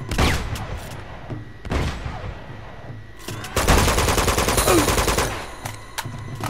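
Minigun fire in the video game Uncharted 2: Among Thieves Remastered, sustained rattling bursts with short pauses between them and a dense, loud stretch near the end, set among other game gunfire.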